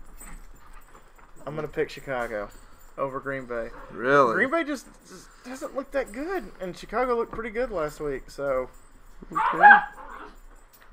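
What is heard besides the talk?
dogs barking in the background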